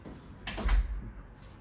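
A New York City studio apartment door, opened by its handle, gives a short clunk and rattle of the latch and hardware, moderately close, followed by a faint rustle.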